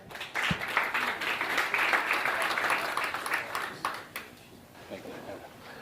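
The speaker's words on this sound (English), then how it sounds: "A little warm round of applause here." An audience at a conference talk gives a warm round of applause welcoming a speaker back, a burst of clapping that builds quickly, holds for a few seconds, then fades out as a voice talks.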